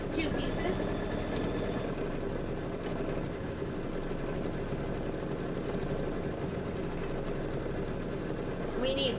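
A sewing machine hums steadily and quietly while stitching quilt blocks, with a continuous mechanical drone throughout.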